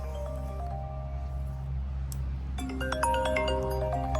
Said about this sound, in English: It's a business phone.